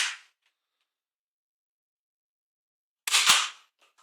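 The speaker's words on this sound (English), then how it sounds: "I'll do a quick firing demonstration just so you can see what it's shooting like" Nerf Star Lord Quad Blaster firing foam darts from its outer two barrels: one short burst at the start, then after a long silence a louder sharp pop with a brief whooshing tail, close up, no talking.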